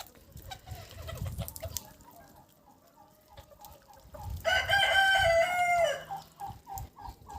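A rooster crows loudly once amid scattered clucking from chickens in a cold, sunny farmyard, with quieter rustling and faint bird calls around.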